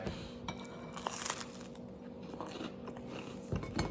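Cheesy bread from a marinara meal is bitten into up close, giving crisp crunchy bites followed by soft chewing, with no one talking.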